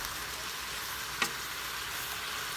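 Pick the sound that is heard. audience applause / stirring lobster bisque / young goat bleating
stirring lobster bisque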